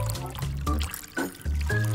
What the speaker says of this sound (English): I'll just fill it up with water,